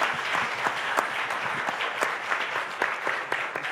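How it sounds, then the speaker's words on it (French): A conference audience claps in a steady, dense burst of applause that lasts several seconds, fairly close and even in loudness throughout. "On peut t'accompagner d'un petit applaudissement."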